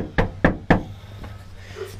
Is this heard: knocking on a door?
yes